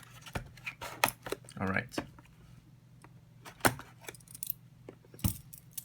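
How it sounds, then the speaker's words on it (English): Future Card Buddyfight trial deck packaging being torn and handled, with sharp crinkling and crisp snaps scattered through the clip, close and fairly quiet, alongside a brief spoken word. "So let us open this trial deck."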